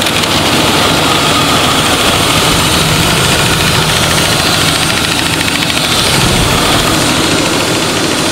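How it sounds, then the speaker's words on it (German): A steady car engine idle heard with the hood open, loud and close, with an even low rumble and faint rapid ticking throughout. "Motor läuft einmal frei, extrem leise."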